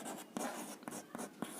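Pen writing a math solution by hand on paper or board, a steady scratching of strokes broken by short taps and pauses, close and fairly quiet, with no talking.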